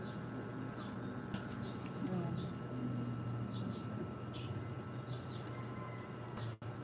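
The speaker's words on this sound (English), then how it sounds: "Just wanna show you the sound of the birds over there." Birds chirp in short repeated calls outside a house, faint and somewhat distant over a steady low background hum, with a brief knock near the end.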